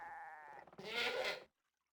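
A single goat bleat rings out loudly from a goat farm in the city-building game CivCity Rome, wavering and then breaking into a harsher cry before cutting off into silence.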